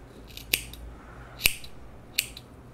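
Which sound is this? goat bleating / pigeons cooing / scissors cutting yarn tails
scissors cutting yarn tails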